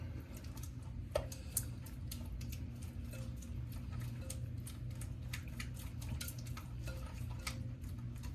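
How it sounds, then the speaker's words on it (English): A spoon stirring vinegar into sesame noodle sauce in a bowl, producing faint, light ticking clinks against the sides in an irregular rhythm over a low steady background hum. "Give that a good stir around."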